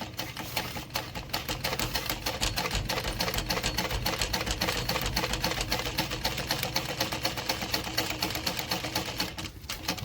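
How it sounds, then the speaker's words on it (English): A sewing machine runs steadily along a stitched line, its fast rhythmic needle clatter continuous and close for the whole stretch, with no talking. "I'm now sewing on the line I made"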